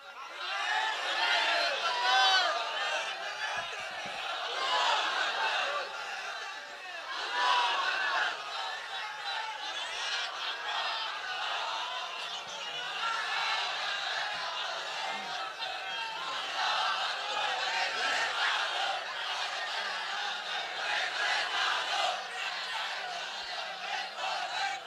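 A large crowd at a Bangladeshi Islamic religious gathering chants slogans in unison, a dense, loud mass of voices sustained throughout with rhythmic swells.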